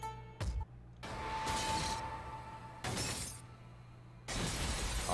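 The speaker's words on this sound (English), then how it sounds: "I held the hammer in my hand, faced the glass in front of me, and threw it as hard as I could." A glass pane shatters after a hammer is thrown at it in the video game Danganronpa V3: Killing Harmony. Several loud, close crashing bursts with bright splintering tails, and no talk.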